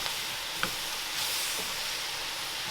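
Cabbage frying in a pan for Southern-fried cabbage and sausage gives a steady, soft sizzle and hiss throughout, with a couple of faint clicks and no talking.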